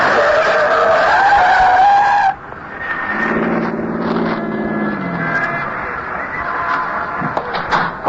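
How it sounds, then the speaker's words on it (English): A yellow taxi spinning around a snowy street corner and skidding to a stop, a loud tire screech that cuts off and gives way to a rumbling engine and slushy road noise. "A yellow taxi spins around the corner at 103rd and West End and settles to a stop astride a brown"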